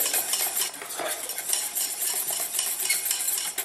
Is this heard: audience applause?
no